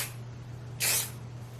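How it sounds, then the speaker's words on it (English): A can of Living Proof texture spray hisses in one short burst onto hair, close and clear, about a quarter-second long, over a quiet room background with a low hum. "I'm going to go in with my Living Proof texture spray"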